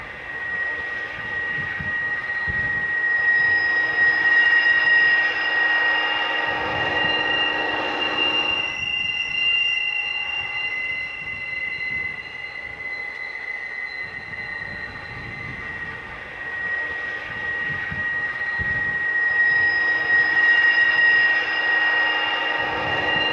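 An eastbound Southern Pacific freight led by a tunnel motor leaves Tunnel 9 and climbs the Tehachapi Loop, its wheels shrieking in a loud, steady squeal over a continuous rolling rumble that lasts the whole stretch, with no voices.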